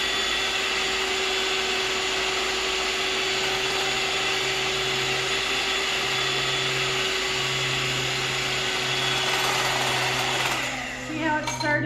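An electric mixer on high whirs loudly and continuously while beating a keto granola mixture until frothy, then winds down near the end.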